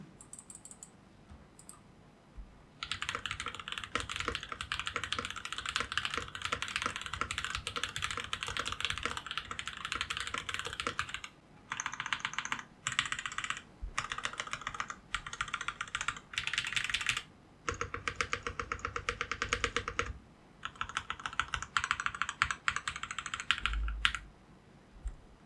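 Bursts of rapid typing on a modded Rexus Daiva D68SF mechanical keyboard fitted with Noir White on Black PBT keycaps, the dense clacking runs broken by short pauses, close and clear with no talking.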